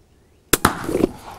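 An airgun fires a pellet in a barrel-to-barrel shot: two sharp, close reports a split second apart, loud and near, followed by a brief rattling, noisy tail.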